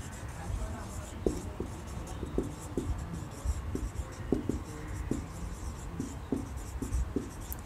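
A pen writes out a chemical reaction for preparing ethane from methyl iodide, with soft scratchy strokes and taps recurring in an irregular rhythm over a steady background hiss.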